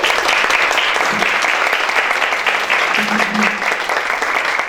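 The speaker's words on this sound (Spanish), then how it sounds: "Aplausos." Sustained applause from an audience at a training event for social service providers, dense and steady throughout, with faint voices briefly rising above it.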